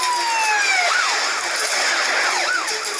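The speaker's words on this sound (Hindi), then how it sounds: "पुलिस की गाड़ी आ रही है" A police car siren wails loud and close in a repeating rising and falling pattern, steady over a few seconds with no talk.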